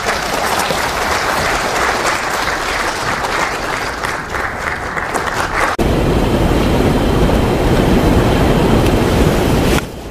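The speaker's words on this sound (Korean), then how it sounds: "박수로 환영해 주시기 바랍니다." A lecture hall audience gives a long round of steady applause to welcome Dr. Lee Jun-sik, a historian, before his talk on colonial-era economic policy. The loud clapping carries on for about ten seconds, with a rumbling, noisier texture in its second half.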